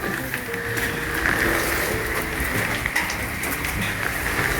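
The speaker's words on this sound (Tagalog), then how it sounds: "Sakripisyo talaga tong ulan na to." Steady rain pours during a storm in the Philippines, a dense even hiss of drops drumming on surfaces near a house under construction, continuous throughout with no voices.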